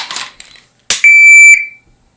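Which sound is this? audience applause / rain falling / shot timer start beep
shot timer start beep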